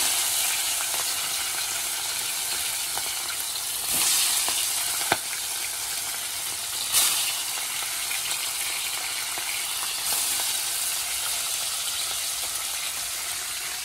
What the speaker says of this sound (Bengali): এক পাশে পটলগুলো ভাজবো, আর এক পাশে মাছ ভাজবো।